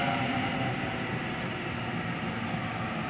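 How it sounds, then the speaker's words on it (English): A Sydney suburban train, a Waratah set, sits at a station platform at night, its steady mechanical hum and broadband rumble continuing without break at moderate level. "pulling in on platform number 1 heading for North Sydney"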